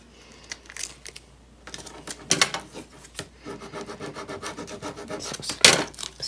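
Vinyl pieces are scraped down onto a Halloween craft project with a tool, giving close, steady rasping and rubbing strokes that grow busier toward the end. No one talks.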